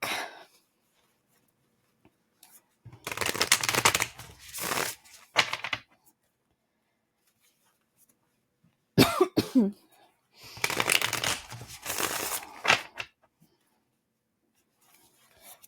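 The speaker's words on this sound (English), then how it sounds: "So let's go ahead and get some shuffles in here really quick." Two bursts of tarot card shuffling, each a few seconds of rapid riffling and rubbing, separated by quiet pauses.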